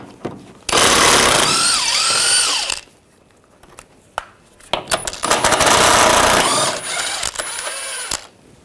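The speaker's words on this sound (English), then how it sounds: "We're going to take these two bolts out on both sides, use a 16mm socket" A power tool with a 16mm socket whirs loudly in two long bursts, removing steering-rack bolts on a 2009-2017 Volkswagen Tiguan front suspension, with metallic clicks and clatter between the runs.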